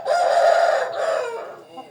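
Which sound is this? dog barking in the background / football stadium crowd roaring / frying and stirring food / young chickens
young chickens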